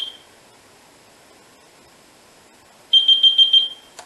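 A Finsecur Type 2 fire alarm panel emits a quick series of five high, piercing beeps in steady rhythm after a long quiet stretch, with a brief beep at the very start.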